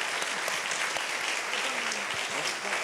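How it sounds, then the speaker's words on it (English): Sustained audience applause at the jPrime 2018 conference closing ceremony, a dense, steady wash of clapping from a large crowd lasting throughout with no break. "your big applause for the official ambassador of jPrime Conference, Amelia"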